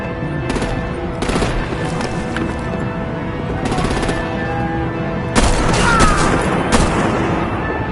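Gunfire and artillery in the video game Batman: The Enemy Within: steady machine-gun bursts and booming blasts roll on for the whole stretch, loud and dense, swelling louder near the end.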